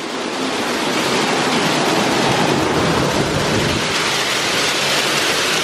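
Dense, loud spraying water roars steadily and evenly throughout, with no pauses, inside a PDQ Tandem RiteTouch automatic car wash.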